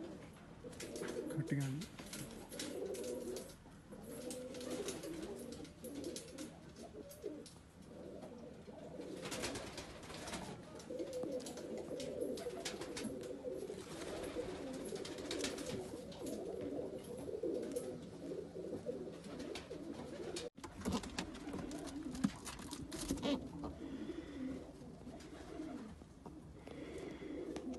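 Blue and copper-coloured pet pigeons cooing on and off in soft, repeated low coos, fairly close, with brief human speech in the background.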